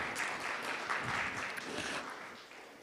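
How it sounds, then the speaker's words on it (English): An audience at a conference on e-participation and policy modelling claps, a dense wash of applause that holds steady before tapering slightly at the end. "Please give her another round of applause."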